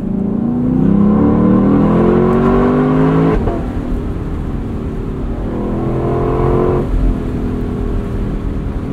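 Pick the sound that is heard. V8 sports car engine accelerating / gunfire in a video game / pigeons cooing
V8 sports car engine accelerating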